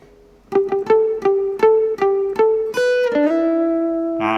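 An acoustic guitar plays a short riff of evenly spaced plucked notes with clipped, damped attacks from muted strings, ending on a longer held note.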